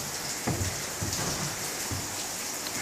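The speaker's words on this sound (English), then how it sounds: "no, it's pouring rain, let's not." Heavy rain pouring outside an apartment, a dense steady hiss of falling water with a few soft low thumps, heard from indoors.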